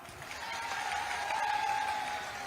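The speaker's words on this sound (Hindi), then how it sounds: "अरे सही है तो ताली बजाओ।" A rally crowd at a public meeting in Guna claps together in sustained, dense applause that swells slightly and holds steady, heard as a broad wash of many hands with faint crowd murmur.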